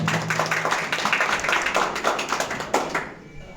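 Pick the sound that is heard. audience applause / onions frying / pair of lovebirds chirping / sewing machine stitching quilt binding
audience applause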